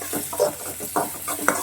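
Onions being sautéed in a pan for aloo samosa filling, with a spatula stirring in several rhythmic scrapes and clinks over a low sizzle, close and clear with no voices.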